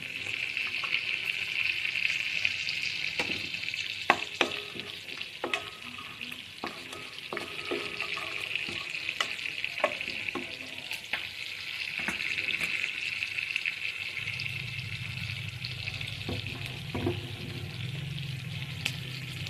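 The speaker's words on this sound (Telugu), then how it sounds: "ఇందులోనే బిర్యానీ మసాలా దినుసులు అండి, జీడిపప్పు కూడా వేసుకొని వేయించుకున్నాం" Cashews and whole biryani spices fry in hot oil in a pan with a steady, soft sizzle. Scattered clicks of stirring come through, and a low hum joins near the end.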